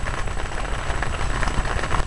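Rain falls steadily and fairly loudly at Nameless Lake during an overnight fishing session, a dense, close patter with no other sounds.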